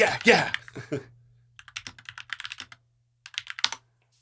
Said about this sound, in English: I feel like my keyboard at least has a nice like ASMR quality to it.